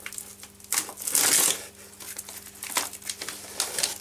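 Plastic packaging of a Russian military ration pack gets torn open, with crisp crinkling and tearing bursts, one louder rip, then several shorter crackling handlings close to the microphone.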